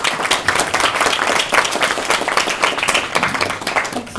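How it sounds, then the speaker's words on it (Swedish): Steady applause from a seated audience welcomes guests at a literary panel discussion, a continuous wash of many hands clapping for several seconds with no pause. "Så jag tycker att vi kanske bara kan hälsa er väldigt välkomna med en applåd."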